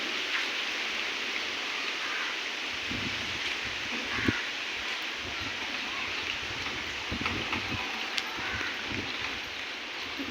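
Light rain and gusting wind during a storm in Ghoraghat, a steady outdoor wash of patter and rustling with a few sharper gusts and knocks, continuous and fairly close, with no talk.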